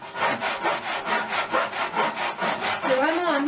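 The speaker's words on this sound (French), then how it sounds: "Donc je suis à la scie japonaise." A Japanese saw cuts through wood for a wooden gate in steady back-and-forth strokes, about seven rhythmic rasping pulls, loud and close, ending in a brief squeaky scrape.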